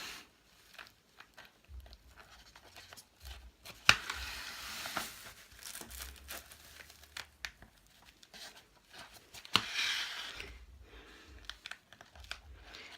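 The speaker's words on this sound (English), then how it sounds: "So I'm going to cut this little thread there" A thread on a box braid wig being snipped with scissors: quiet, scattered snips and soft rustling of the hair and net, close and faint, with no talking.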